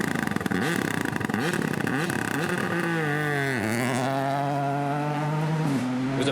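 Toyota GR Yaris rally car on a competitive rally stage, its engine loud and close, revving hard with rising and falling pitch sweeps as it accelerates and shifts, no voices.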